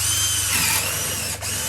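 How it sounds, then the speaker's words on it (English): A power drill whines loudly and steadily as it bores a hole through a piece of wood used as a guide for a tile cutter, with a brief dip near the end as the bit catches. "get a bit of wood, drill a hole"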